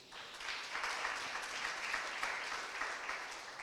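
A church congregation claps together in a sustained, even round of applause that rises quickly and holds steady throughout.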